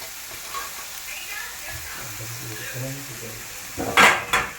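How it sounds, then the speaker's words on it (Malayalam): Jackfruit fiber hits a hot pan with onion, green chili and curry leaves, giving a soft sizzle under a speaking voice, then louder scraping stirs near the end. "അതിലോട്ട് നമ്മുടെ കഴുകി വൃത്തിയാക്കി വെച്ചിരുന്ന ചക്കപ്പാട ഇട്ട് കൊടുക്കുക"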